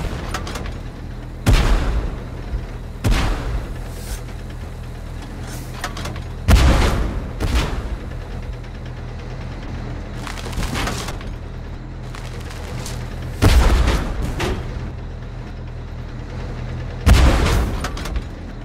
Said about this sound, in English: We are under bombardment!